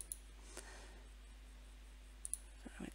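A computer mouse clicks while a custom material setting is chosen for a cutting machine: a few sparse, faint, sharp clicks in a quiet room, with a small soft rustle near the end.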